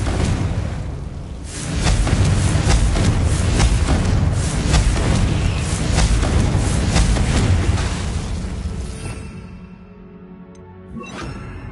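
Confringo blasting spell in Hogwarts Legacy: a loud sustained booming whoosh of spell-fire and explosion lasting several seconds, fading into quieter rumble near the end.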